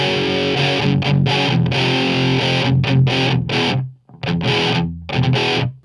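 Tube guitar amplifier with transistors jammed into its tube sockets, played clean without an overdrive pedal, gives loud, gritty, partly distorted guitar chords in several strummed bursts with a short silent gap.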